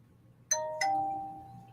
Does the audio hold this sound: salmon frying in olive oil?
no